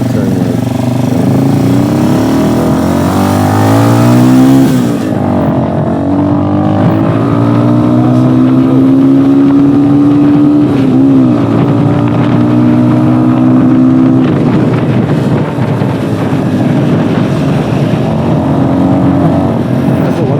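A motorcycle weaves through city-centre traffic in South America, its engine close and loud, rising and falling in pitch as it revs and shifts, with constant road and wind noise.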